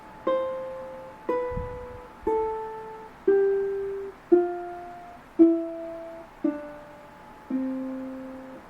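Eight single plucked ukulele notes, evenly spaced and stepping down a scale, each struck with a soft thumb downstroke and left to ring.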